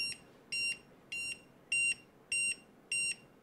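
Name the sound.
ISDT LiPo battery charger beeping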